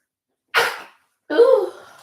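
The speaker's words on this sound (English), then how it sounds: "I feel like I have to sneeze." A single close, loud human sneeze: a short breathy intake burst, a pause, then the sharp explosive sneeze with a trailing tail, alone without talk.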